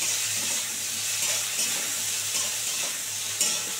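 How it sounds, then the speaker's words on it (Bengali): Cauliflower pieces, seasoned with a little turmeric and salt, fry in a pan with a constant close sizzle and occasional stirring scrapes, with no talking. "ফুলকপিটা একটু ভালো করে ভেজে নেবো।"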